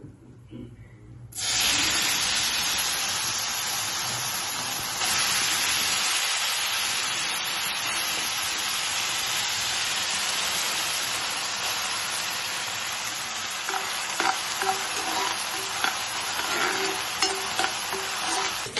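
Sago pearls frying in ghee for a sago payasam make a steady, loud sizzle and hiss that starts abruptly after a quiet moment, with occasional stirring scrapes and crackles continuing throughout.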